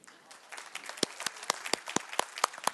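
Audience at the 2015 CASBS Summit morning keynote breaks into applause, a brisk run of sharp, fairly close claps building in density over a few seconds.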